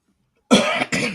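Two sharp coughs in quick succession, close and loud, after a moment of silence.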